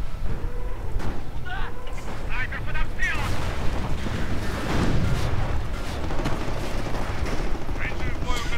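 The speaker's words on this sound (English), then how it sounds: "More Nebelwerfer fire." Nebelwerfer rocket artillery in Company of Heroes, heard as repeated booming launches and blasts with scattered gunfire in a dense, continuous battle din while a commentator talks over it.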